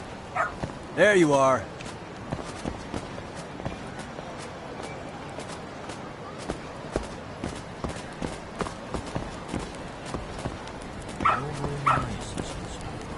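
A dog in the video game Lost Judgment barks and whimpers in two short bursts, one near the start and one near the end, with game sounds and someone speaking in between.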